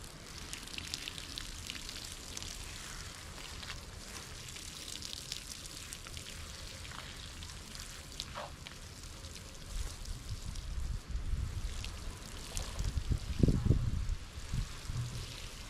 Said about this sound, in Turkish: can suyumuzu veriyoruz